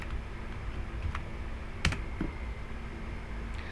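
Keys clicking on a computer keyboard while a formula for the mean is typed in a lecture; a few sparse, fairly close taps with one sharper click, over a steady low background hum.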